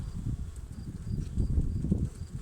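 Anatolian honey bees buzzing at the hive, a soft low continuous drone that swells slightly midway, close by with no talk.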